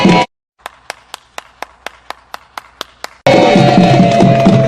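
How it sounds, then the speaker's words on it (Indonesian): Hand clapping at a comic Betawi palang pintu pencak silat performance: about ten crisp, evenly spaced claps, then a sudden burst of loud, busy crowd noise. "Tepuk tangan biar rame."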